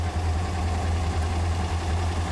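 A vehicle engine idles along in first gear, a steady low rumble with an even hum and no break, heard up close with no speech.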